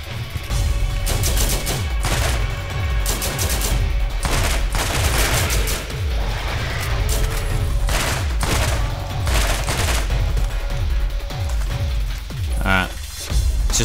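Sustained gunfire from the Borderlands shooter, rapid repeated bursts and shots rattling steadily and loudly throughout, close and dense with almost no pause.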